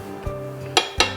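A baking dish holding a turkey hot brown with Romano cheese sauce comes out of a kitchen oven, giving a soft knock and then two sharp clinks of metal and glass close by.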